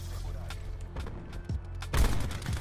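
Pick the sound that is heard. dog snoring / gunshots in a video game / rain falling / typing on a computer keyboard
gunshots in a video game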